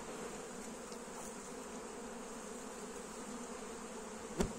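Honeybees buzz around an open hive during an autumn inspection before wintering, a faint steady drone with a brief louder pass near the end.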